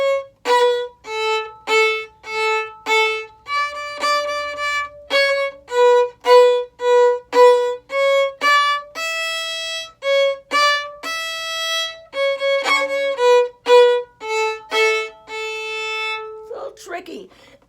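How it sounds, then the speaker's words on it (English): Solo fiddle plays the Oat and Peas fiddle tune with accented upbeat bows, a lively stream of distinct, loud bowed notes that pulse in a steady rhythm for most of the passage and end with a brief scrape. "accents in fiddle tunes are on the upbeats"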